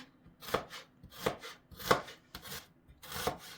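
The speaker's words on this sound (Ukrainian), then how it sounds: "Розпочинаємо ми робити салат з цибулі. Ріжемо її напівкільцями" Five evenly spaced knife chops slicing an onion into half-rings on a cutting board, crisp and close, with quiet pauses between strokes and no talking.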